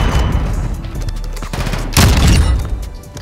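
Sniper shots and a burst of battle noise in the video game Call of Duty MW2, loud and close, with a sharp blast near the middle over a constant rumble of game sound.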